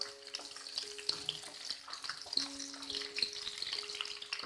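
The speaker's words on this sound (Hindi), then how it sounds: "हम भिंडियों को शैलो फ्राई करेंगे, डीप फ्राई नहीं करेंगे" Okra shallow-fries in hot oil, a quiet, steady sizzle with light scattered pops and faint clinks from the pan.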